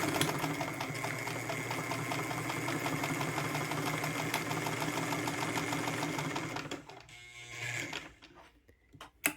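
Singer Red Eye Model 66 sewing machine stitching fabric, a steady loud mechanical whir and rapid needle clatter that runs continuously, then slows and stops near the end.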